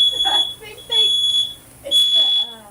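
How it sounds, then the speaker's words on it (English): A smoke-style fire alarm set off by cooking sounds three long, shrill beeps in a steady pattern, heard indoors under people talking during a tornado warning broadcast in Middle Tennessee. "It's the fire alarms because they're"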